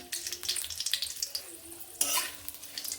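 Bay leaves, a dried chilli and panch phoron frying in hot oil crackle and sizzle softly up close, with a sharper burst of spitting midway and light stirring noises.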